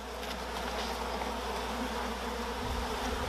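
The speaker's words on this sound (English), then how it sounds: "And now all we're going to do is dump the bees into the box." Honeybees being shaken and dumped into a hive box, a dense, loud swarm buzz that hums steadily throughout, close and without talk.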